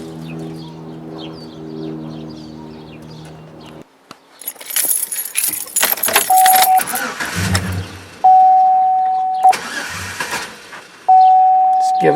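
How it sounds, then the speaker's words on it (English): A car engine cranks over several times with the fuel lines decompressed, chugging and sputtering up close, followed by repeated tonal beeps; someone talks over parts of it and keys rattle. "we'll fire up the car."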